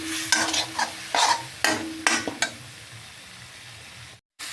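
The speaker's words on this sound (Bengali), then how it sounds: "দিয়ে দিব মরিচ বাটা, জিরা ধনিয়া বাটা, একসঙ্গে ভালো করে মিশিয়ে নেব।" A spoon stirs a ground paste of chili, cumin and coriander in a pan, a series of brief scraping strokes with a soft sizzle underneath, then the sound cuts out near the end.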